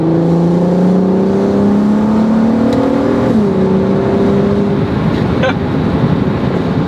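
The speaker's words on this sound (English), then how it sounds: "And this V6 is naturally aspirated, so it has no turbos or superchargers at all." Naturally aspirated VR6 in a VW Golf MK5 R32 revving hard from inside the car, a loud continuous engine note that climbs steadily, briefly dips at a gear change, then drones on with a few faint clicks and no talking.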